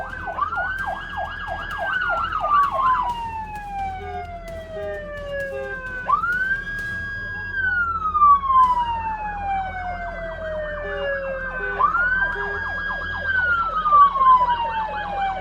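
Police sirens wail in pursuit of a stolen ambulance speeding through construction zones and city streets, rising-and-falling sweeps repeating every few seconds with rapid yelping bursts, over traffic rumble at moderate distance.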